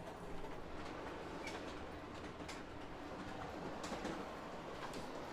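An O gauge model train runs along its track on a layout styled after the Strasburg Railroad, a steady rolling rumble with faint rhythmic clicking of wheels over rail joints, continuous and fairly close, with no voices.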